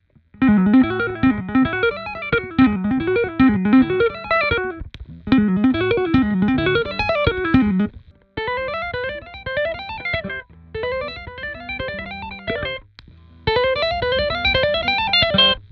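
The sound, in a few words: electric guitar lick through compressor pedal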